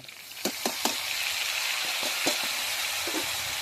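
Kohlrabi and potato pieces fry in a pan with cumin, ginger and chilli, a soft steady sizzle broken by several sharp scrapes and stirring knocks near the start and later.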